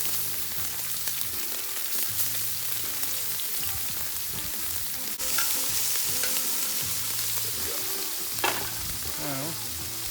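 Scallops seared on a discada give a steady, loud, close sizzle that crackles continuously. Occasional scraping of utensils on metal and brief clatters sit over the frying.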